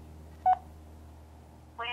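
A Samsung u820 Reality phone on Verizon places a call, giving a short bright dialing tone near the start and another electronic tone burst at the end, with quiet background between.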